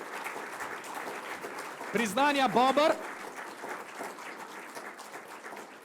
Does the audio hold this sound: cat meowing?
no